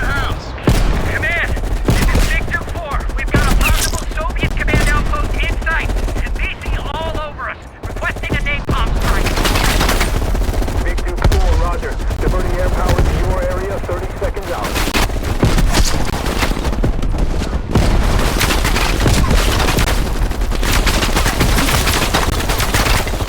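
Heavy gunfire fills a Call of Duty Black Ops Cold War battle, with sniper rifle shots amid dense bursts of automatic fire and booms, loud and nearly continuous, with voices speaking under the shooting.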